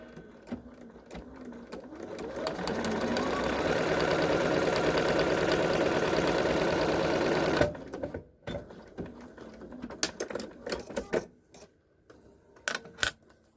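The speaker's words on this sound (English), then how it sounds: "I'm going to be stitching with a 3/8 inch seam allowance, back stitching at the beginning and the end." A sewing machine stitches the side panels of a crossbody bag with a 3/8 inch seam, running steadily for several seconds with a brief backstitch, then stopping into quiet handling clicks and taps.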